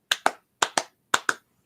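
Six sharp hand claps in three quick pairs, loud and close with no talk, followed by one faint tap at the end.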